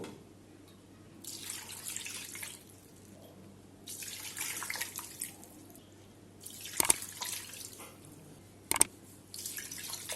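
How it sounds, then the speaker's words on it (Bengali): Water trickles and splashes into a pan of beef nihari in several separate pours, with quiet gaps between them and two sharp clinks near the end. No voices. "আমি এখন এটার মধ্যে একটু পানি দিব।"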